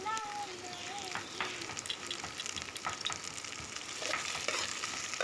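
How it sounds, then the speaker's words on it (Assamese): Meat goes into a pan of lightly browned onions and fries with a soft, steady sizzle, with occasional stirring scrapes and clinks, fairly faint throughout. "পিঁয়াজটো অকণমান ৰঙচুৱা হোৱাৰ পাছত এতিয়া মই মাংসখিনি ইয়াতে দি দিম।"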